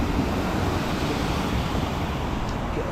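Wind buffets the microphone as a steady, loud rush on a cold early morning in Sean Walsh Park, Tallaght, Dublin, with no voices.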